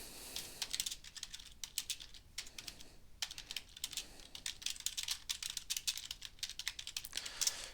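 Fingers type text on a computer keyboard in quick, uneven bursts of close, crisp clicks with short pauses between runs, and no voices over them.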